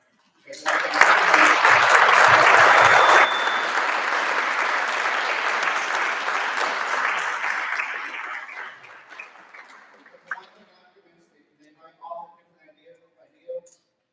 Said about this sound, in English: I'd like to give another round of applause to these three gentlemen.